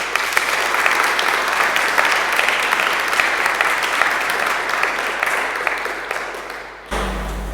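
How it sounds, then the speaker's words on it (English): Audience applause at a church concert in Feakle, a sustained, dense round of clapping from a crowd that carries on steadily for several seconds, then fades and stops abruptly near the end. "Big round of applause."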